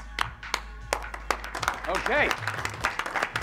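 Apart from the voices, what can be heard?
audience applause and clapping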